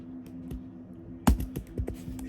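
Keys clatter on a computer keyboard in a quiet room, a few soft scattered taps followed by a sharper, louder strike of the enter key and several more quick presses after it.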